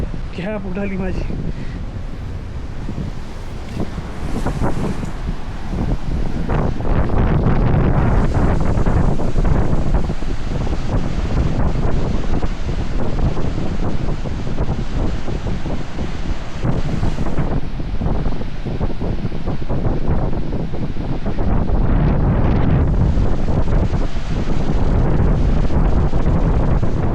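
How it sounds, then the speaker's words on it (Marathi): Heavy cyclone surf rolls and crashes continuously on the beach at Vengurla during the monsoon. Strong wind buffets the microphone throughout, and the roar of the waves sits beneath it. "जबरदस्त लाटा आहेत त्या, हे बघा धडकणारी लाटा"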